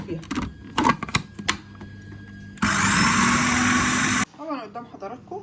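A kitchen blender grinds roasted peanuts into peanut butter in a loud, steady burst of about two seconds, with someone talking before and after it.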